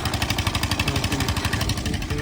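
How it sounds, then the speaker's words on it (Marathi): At fort restoration work, a lime-making machine runs nearby, a steady rapid mechanical thumping and chugging with a continuous rattling drone, fairly loud and unbroken. "दोरी आहे हे काय चुन्याची मशीन ती वाली आहे. तिथं चुना बनतो. आता काम चालू आहे."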